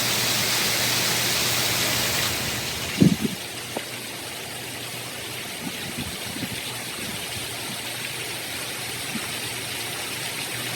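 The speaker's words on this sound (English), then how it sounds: "There's a river flowing." Rainwater running outdoors like a small river after rain, a continuous broad rushing wash with a few faint knocks and thumps, steady and moderately close.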